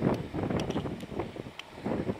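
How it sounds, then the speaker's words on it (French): Strong wind gusting across a microphone on a mountain hike, coming in uneven buffeting bursts that swell and ease, with faint thin rattles above and no talking. "Ah, ce vent terrible."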